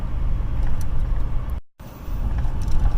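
Car driving up to a golf ranch, a close, steady engine and road rumble from inside the vehicle, briefly cut to silence midway before resuming.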